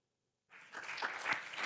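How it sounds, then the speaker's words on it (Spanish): Church congregation breaking into applause after a half-second of silence, a steady dense wash of clapping building slightly and continuing to the end. "déle ese aplauso, Señor, fuerte"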